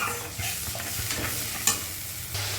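Onion fries in hot oil, a close, even sizzle and crackle with a sharp clink partway through, no one speaking.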